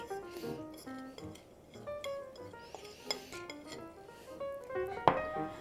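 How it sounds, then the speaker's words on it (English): A utensil stirring batter made with baking soda and sugar in a bowl for fried pickles, light clinks and scrapes against the dish in an irregular rhythm, fairly quiet and close. "So make sure it gets nice and mixed."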